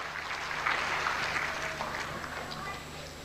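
A church congregation applauds loudly at a sermon's call to clap, a dense, steady wash of hand claps from a large crowd that fades slightly toward the end.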